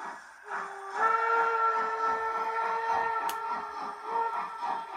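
A steady model train steam whistle sounds close by for several seconds, accompanied by rhythmic chuffing and hissing beneath it.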